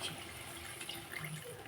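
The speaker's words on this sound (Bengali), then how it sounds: "এখন দিয়ে দিচ্ছি পরিমাণ মতো জল।" Water poured into a pot of thin fish curry with eggplant and potato, a steady soft splashing pour that runs evenly throughout at low level.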